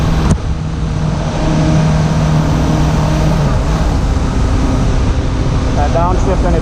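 A Suzuki GSF600 motorcycle engine held at high revs near 5,000 RPM while riding, a loud continuous roar with wind noise, holding a steady drone that shifts in pitch toward the end.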